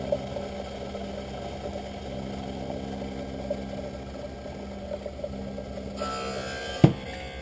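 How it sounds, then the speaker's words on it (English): Steady mechanical whir of an optical lens edger cutting an eyeglass lens for Ray-Ban Wayfarer bifocal frames, a continuous hum that shifts near the end and ends with a single sharp knock. "as this starts to begin cutting on your left lens"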